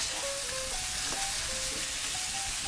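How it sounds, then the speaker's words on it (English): Stirring salted, spiced ingredients in a pot for vegan lasagna gives a steady, close sizzling hiss with soft scraping, no talk. "We'll stir all that in to the pot."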